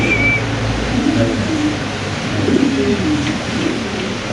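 Indonesian pigeons coo softly and repeatedly over a steady low background hum, with no talking.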